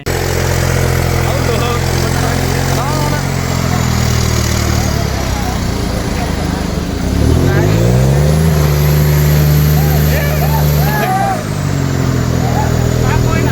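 Tractor engines rev loudly and close up during a tochan tug-of-war trial on a road, the deep rumble swelling and climbing in pitch midway before settling, with voices over the top.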